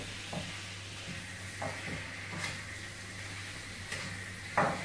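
Schezwan fried rice being stirred and fried in a pan, a constant sizzle under a low hum, with several spatula scrapes and knocks against the pan, the last one louder.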